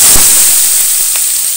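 Lote fish coated and mixed with potato hits hot oil in a wok, giving a loud, steady sizzling hiss close by.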